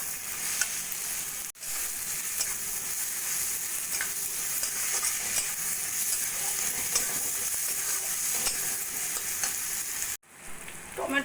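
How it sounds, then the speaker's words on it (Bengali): Tomato, salt, turmeric and chili powder sizzle and fry in a pan while being stirred for a fish curry, a steady close crackle with scrapes of stirring and two brief pauses. "এবার ভালো করে টমেটো আর মশলা ভালো করে কষিয়ে নেব।"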